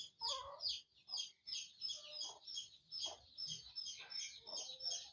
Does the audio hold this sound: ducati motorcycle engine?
no